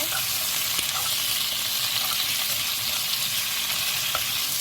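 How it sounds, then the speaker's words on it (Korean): Dried zucchini strips, pre-seasoned, being stir-fried in a generously oiled pan, giving a steady broadband sizzle with faint scraping stirs and small clicks throughout, no voices. "호박꼬지를 제가 한번 또 볶아 보겠습니다."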